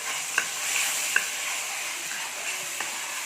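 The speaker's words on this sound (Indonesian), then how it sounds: "Kita tumis bawang merahnya." Shallots sizzle steadily in a pan as they sauté, a continuous frying hiss with a few sharp clicks of a utensil against the pan, and no one speaking.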